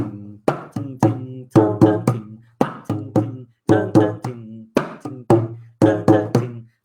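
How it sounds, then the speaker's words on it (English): A Khmer skor drum plays a bolero rhythm, struck with the right hand while the left hand mutes the head, producing dry, close, evenly repeating hits in short groups. "you have to kind of mute the drum with your left hand and then hit it with your right hand"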